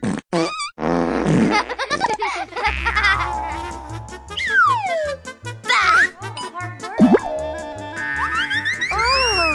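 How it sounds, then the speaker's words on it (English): Cartoon fart sound effect in an animated children's show about Tayo the little bus, sounding amid busy music, squeaky effects and character voices, loud and close. "Fart discharge!"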